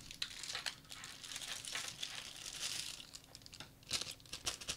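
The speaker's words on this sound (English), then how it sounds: "So let's go ahead and unwrap the USB cord." Thin plastic packaging around a USB cord for a VKB Gladiator MK II joystick crinkles and crumples steadily at close range, with a few sharper tearing crackles near the end and no talking.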